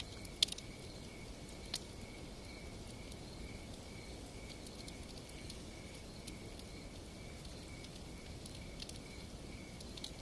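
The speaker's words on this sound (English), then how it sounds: "The crickets here call all night long." Crickets chirp steadily through the night, a thin, continuous high-pitched trill that stays even and moderately distant under a soft, constant hiss, with a few faint clicks early on.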